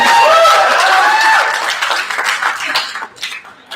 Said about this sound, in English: everyone give Josh a round of applause, please